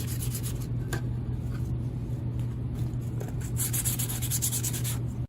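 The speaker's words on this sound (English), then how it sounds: "we're going to start using some sandpaper to kind of smooth down those edges" Wet sandpaper rubbing along the edges of a 1/32 scale Galileo shuttle model kit part, a steady close-up scraping that runs continuously over a constant low hum.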